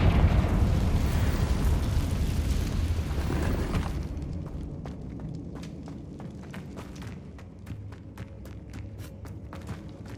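Confringo fire spell in Hogwarts Legacy, a loud fiery explosive burst with a roaring rumble that fades over about four seconds, followed by quiet clicks and footsteps.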